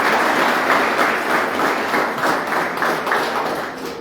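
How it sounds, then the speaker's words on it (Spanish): Church congregation giving a loud, sustained round of applause, dense continuous clapping filling the room at an even level that eases slightly toward the end. "Le damos un fuerte aplauso nuevamente al Señor."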